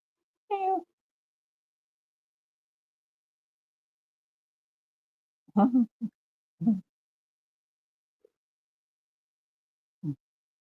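A cat meows once, then after a long silence gives several short, close meows and chirps with quiet gaps between, with purring.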